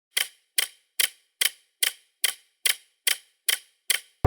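Keys struck one at a time on a keyboard while typing a prompt, about ten crisp, evenly spaced clacks in a steady rhythm, close and clear against silence.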